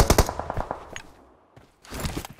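Rapid bursts of automatic gunfire in PUBG Mobile ranked play. A close, loud string of shots opens the moment, followed by scattered single reports and a brief lull, then another burst of fire.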